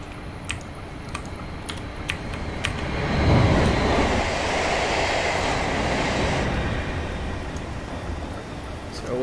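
A train rumbles along the Portsmouth Direct Line in Train Simulator 2019, a steady broadband roar that swells in the middle, with faint clicks and ticks scattered over it and a voice talking briefly.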